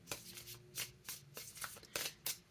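A deck of cards is shuffled close by in quiet surroundings, giving several quick riffling bursts with short pauses between them, heard alone for a couple of seconds.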